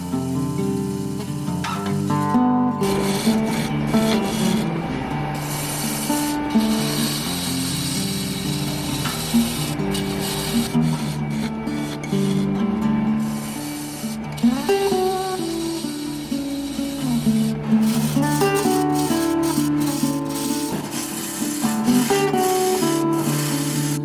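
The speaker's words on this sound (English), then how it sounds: "We're using a 1/2 inch bowl gouge and about 800 RPM just to get it round and get it running true." A walnut bowl roughed round on a wood lathe at about 800 RPM with a 1/2 inch bowl gouge, a loud continuous motor hum under harsh, uneven cutting and scraping that rises and falls with each pass.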